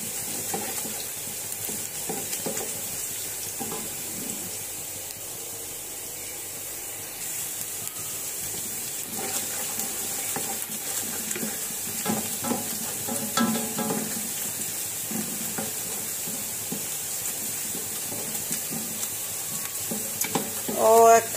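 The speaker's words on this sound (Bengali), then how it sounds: "শুধু চাউলটা আমি কষিয়ে নিব, ভালো করে" Rice for biryani being stir-fried in a pan gives a long, steady sizzle with intermittent scraping and stirring knocks, growing busier and louder toward the end.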